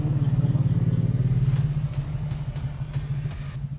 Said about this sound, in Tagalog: May ingay ng motor.